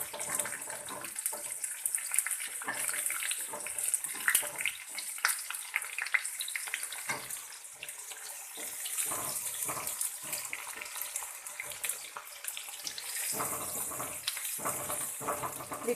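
Chopped onion fries in a pan of oil with star anise while veg pulao is prepared, giving a steady bright sizzle and crackle throughout, close and even.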